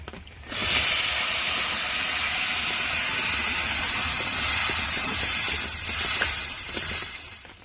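Fish and browned onions frying in a pan for a Bengali fish curry with potato and eggplant, giving a steady, fairly loud hiss and crackle that runs throughout without talk.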